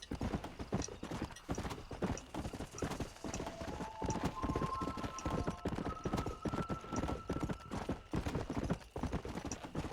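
Steady clip-clop of horse hooves trotting at an even rhythm in the video game Red Dead Redemption, with a rising musical tone partway through.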